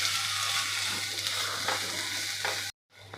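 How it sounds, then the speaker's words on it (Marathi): Finely chopped tomato and chilli-garlic paste sautéing in a pan, a dense constant sizzle with a couple of soft stirring strokes, close, then it cuts off abruptly near the end; no talk. "एक छोटा टोमॅटो एकदम बारीक कट केलेला हा सुद्धा यामध्ये आपल्याला परतून घ्यायचा आहे"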